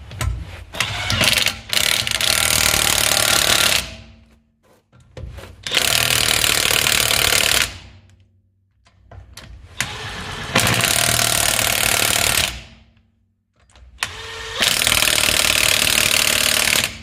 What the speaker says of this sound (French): Et là on peut y aller à la clé à choc